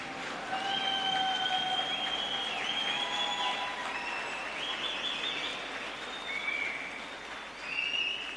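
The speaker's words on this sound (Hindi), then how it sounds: "एक बार जोरदार सब लोग खड़े होके तालियां बजा दीजिए" A crowd stands and claps at an Aam Aadmi Party gathering in Goa, a dense, steady wash of applause lasting throughout, with a few high whistle-like tones riding on top.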